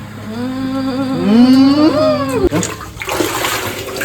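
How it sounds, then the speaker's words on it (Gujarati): Water is poured from a bucket outdoors, a gurgling, splashing pour that swells over a couple of seconds and then trails off into softer splatter. "બે ડોલ જેટલું પાણી રેડવાનું સખલે ઝાઝું નથી રેડવાનું"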